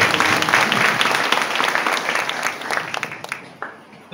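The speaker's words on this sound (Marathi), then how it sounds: "यांच्यासाठी एकदा टाळ्या वाजवतो." An audience at a Jeevan Vidya Mission gratitude-day gathering bursts into dense, close hand clapping that gradually thins out into a few scattered claps.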